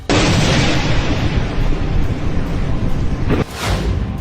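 Missile explosions striking Israel, around Tel Aviv, Haifa, Nevatim and Beersheba: a loud, continuous roaring blast rumble with one sharp burst near the end, and no voices.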